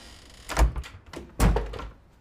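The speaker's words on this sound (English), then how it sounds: "Close the door." A door closed indoors in a drama scene, two dull thuds about a second apart, close and fairly loud, with nobody talking.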